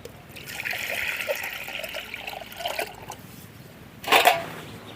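Water pours steadily from a pot for a few seconds in a thin trickling stream, then stops, followed by a brief louder splash.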